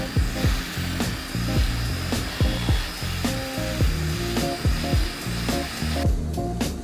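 A power tool polishes a solid rubber wood wall panel in a rapid, repeating run of whirring passes, loud and close with short breaks between strokes, no talking.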